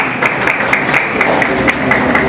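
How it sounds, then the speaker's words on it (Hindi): An audience at a dialogue session on Made in Pakistan hosted by IEEEP applauds, a loud, steady clatter of many hands with scattered sharper individual claps, continuous for the whole stretch. "इनके लिए बहुत सारी तालियां जरूर बजाएंगे।"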